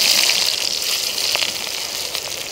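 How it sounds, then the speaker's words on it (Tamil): Onions frying in oil in a pan for an egg and goat testicle podi mas, giving a loud, continuous close-up sizzle and crackle that stays constant throughout. "வெங்காயத்தை நல்லா வணக்கி எடுத்துக்கலாம்"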